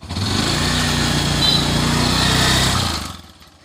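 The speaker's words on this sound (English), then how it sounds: "Teja navigates his three-wheeler to a small waterway." Small three-wheeler engine running near and loud, a steady high-pitched buzzing drone that holds for about three seconds and then fades away.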